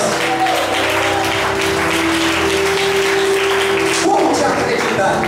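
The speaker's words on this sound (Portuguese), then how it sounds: "glorifica Ele com as suas palmas." A church congregation claps together in sustained applause, a dense continuous wash of hand claps with a steady tone humming underneath throughout.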